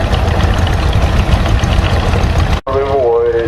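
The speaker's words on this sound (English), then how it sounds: "This tractor is owned by Laverne and Ruth Rudd" A John Deere tractor engine idling at an expo in New York, a loud, close, steady knocking chug that briefly cuts out near the end while a voice speaks over it.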